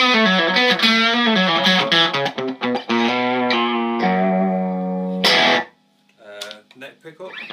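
Electric guitar with humbucker pickups played through a Danplifier Killer Rabbit amp with the boost switch engaged, producing gained, distorted sustained chords and riffs, loud and upfront, ending in a quick muted flourish.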